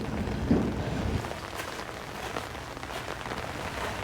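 Steady, soft patter of light rain falling continuously, with scattered drops tapping nearby surfaces.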